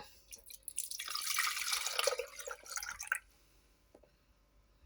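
Milk pours in a bubbling, splashing stream for about three seconds, then cuts off, followed by near silence and one faint drip or tap.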